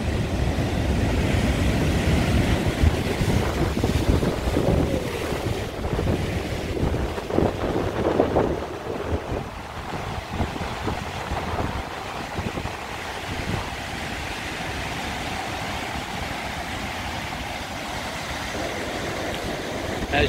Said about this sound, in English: And the surf's really pumping.